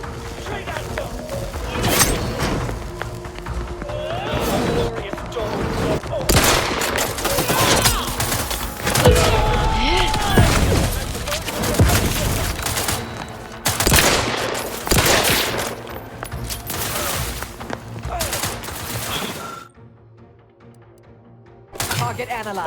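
Combat gunfire in The Outer Worlds 2: dense bursts of shots and rapid fusillades, loud and close, with game voices calling out over the fighting and a brief lull near the end.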